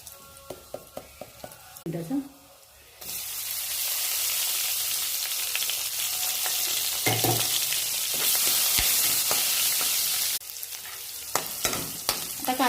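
Cumin seeds and asafoetida hit hot oil in a pan and break into a loud, steady sizzle that runs for several seconds after a few quiet clinks, then drops back to soft crackling near the end.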